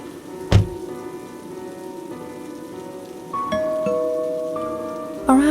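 Soft, steady patter of light rain falling on a surface, with a dull thump early on and a few tonal hums layered faintly underneath.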